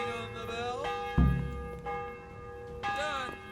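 Church bells clang in Kingdom Come: Deliverance, a medieval-setting game, with several strong overlapping strikes whose bright ringing tones sustain and decay over a quiet background.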